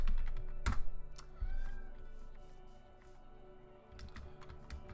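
Rapid bursts of typing on a computer keyboard, close and clear, with clustered key clicks and short pauses between runs.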